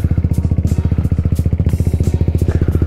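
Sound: Italjet Dragster 200 scooter engine starting and running

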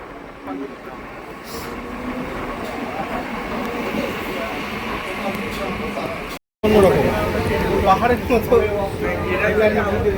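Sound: Katwa–Ahmedpur MEMU passenger train running

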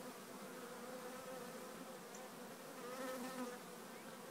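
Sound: honey bees on orientation flight at new bee yard

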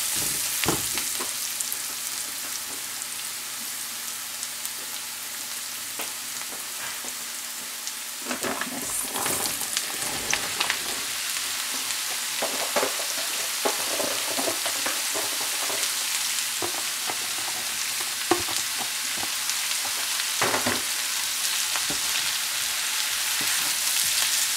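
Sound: zucchini frying and being stirred in a pan

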